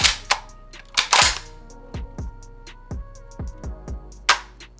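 A Black Aces FD-12 shotgun fires several sharp, loud reports in an uneven series, each blast followed by a short ringing decay.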